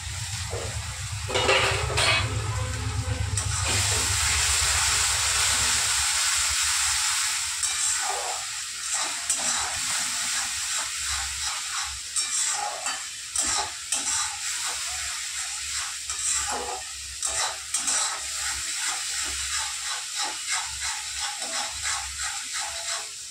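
Spice masala of chili powder, turmeric, cumin and salt sizzling in oil in a pan for a bhola fish curry, a steady close hiss and crackle that later breaks into stirring scrapes and clinks.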